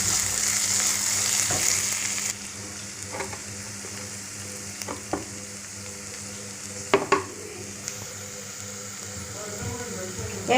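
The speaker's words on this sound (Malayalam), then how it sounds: "നമ്മളെ സവാളയൊക്കെ നന്നായി വഴണ്ട് വന്നിട്ടുണ്ട്." Onions sautéing in a pan for pepper chicken curry: a loud close sizzle that drops partway, followed by scattered stirring scrapes and clinks over the softer frying.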